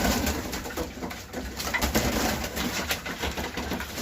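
Pigeons at a breeder's loft, including Bukhara and mantled show birds, coo steadily for about four seconds, soft repeated throaty calls over a constant background hiss with no talking.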